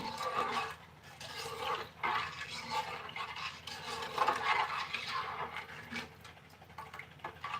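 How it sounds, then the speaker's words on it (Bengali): A spoon stirs falooda mix together with soaked sabudana pearls in a bowl, producing continuous soft scraping and wet rubbing strokes, fairly quiet and steady, with no talking. "সঙ্গে সাবুদানাগুলো দিয়ে দিচ্ছি সব কিছু এখন ভালোভাবে নেড়ে চেড়ে নেব"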